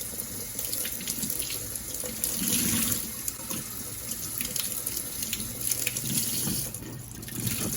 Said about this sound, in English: Dampen the cheesecloth first.